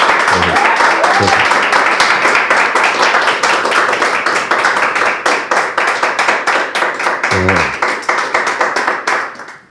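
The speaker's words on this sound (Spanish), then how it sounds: "pido un aplauso para ellos que han venido a esta tarde" Audience applause closing a talk show episode, loud sustained clapping from a live crowd that fades out at the end, with brief voices cutting in near the start and middle.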